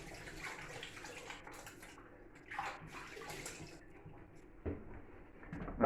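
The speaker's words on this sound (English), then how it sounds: "Wash hands." Hands are washed under a running kitchen tap, a steady close spray of water with brief splashes and shifts in the flow, fairly quiet, with no talk.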